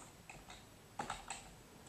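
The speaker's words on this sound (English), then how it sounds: "Now you want to type in your answers" Keys tapped on a computer keyboard while typing in exam answers, a handful of soft, irregular clicks with a quick cluster near the end, close and quiet with no talk.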